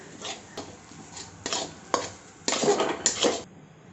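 Grated coconut is stirred into melted sugar in a greased pan for coconut chikki, producing a series of brisk scraping and clattering strokes of a utensil against metal. The strokes grow louder and denser toward the end, and no one talks.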